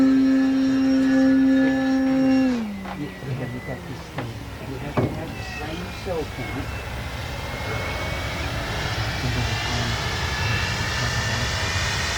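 A Flex Innovations RV-8 60E G2 electric RC airplane's motor whines at a high steady pitch, then drops off and fades into the distance before building back up, with wind noise throughout.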